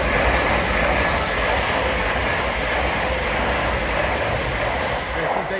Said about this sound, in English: passing through now is an LNER Azuma